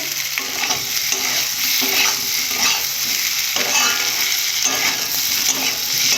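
Soya chunks and potatoes fry in a pan with a steady, close sizzle, punctuated every second or so by brief stirring scrapes, with no voices.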